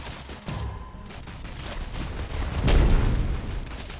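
Rapid gunfire from bullets in the modded competitive shooter Rounds, a dense continuous volley that swells louder midway with heavy low thumps, steady and close throughout.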